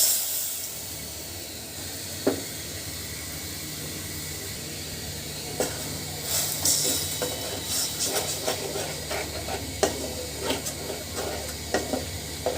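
Spice paste goes into a pan of well-fried onions for a Bengali fish curry with bitter gourd, potato and tomato, giving a steady close hiss and sizzle broken by scattered clicks and scraping stirs.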